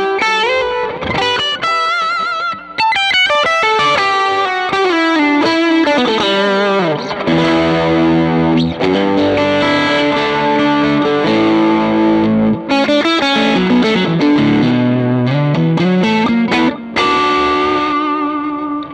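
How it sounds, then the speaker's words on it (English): Electric guitar through a Fulltone Fulldrive 3 overdrive and a TC Electronic Alter Ego X4 delay, playing a busy melodic line with delay repeats trailing each note; loud and continuous, no voices. "Let's turn on some delay from TC Electronic Alter Ego X4."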